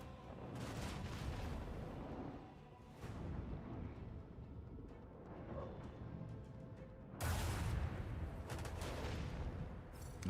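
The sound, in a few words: macro cannon barrage from the video game Rogue Trader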